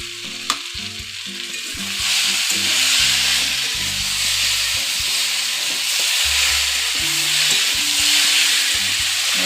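Mixed vegetables and fried brinjal stirred in a sizzling pan, the frying hiss loud and continuous while a spatula clunks and scrapes in irregular knocks against the pan.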